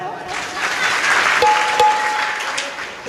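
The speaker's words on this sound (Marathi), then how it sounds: "टाळ्या वाजवा" An audience claps together at a comedy kirtan, a steady burst of applause lasting about three seconds with a couple of sharp louder claps standing out, while a voice speaks faintly over it.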